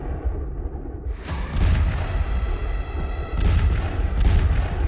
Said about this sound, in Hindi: पूरा टैंक एक धमाके में उड़ जाता है।